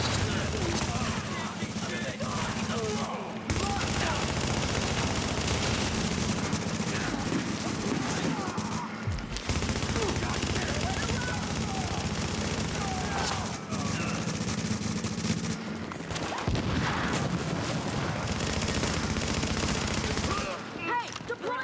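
Sustained gunfire and volleys of automatic shots in The Division, a third-person shooter game, rattling continuously under a steady bed of game noise and voice chatter, with brief lulls between bursts.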